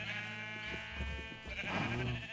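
A sheep in the Minecraft video game bleats in drawn-out wavering calls while being sheared with shears, set against steady game background noise.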